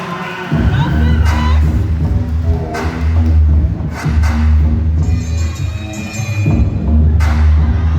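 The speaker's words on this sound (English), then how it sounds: "Once again, round of applause, contestant number 1." A pageant crowd cheers and applauds loudly through most of the stretch, with a dense wash of noise, thumps and whoops, and voices heard in the mix.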